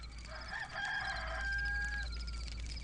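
A rooster crows once in a drawn-out, rising and sustained call, close and loud over a steady low hum, within a dramatized scene of Jesus's trial.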